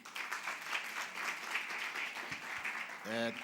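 An audience claps hands at a building launch for an early childhood care department, a steady wash of applause that carries through, with a voice briefly near the end.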